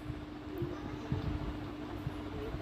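Inside a moving passenger train between Sedam and Mantralayam, a steady low rumble fills the carriage with a few soft knocks and thuds, fairly quiet and with no clear voices.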